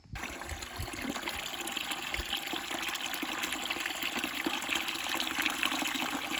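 Steady gush of water running from a hose in a gravity-fed garden watering system for raised beds, fed from a well without a pump; continuous and fairly loud, with no talking.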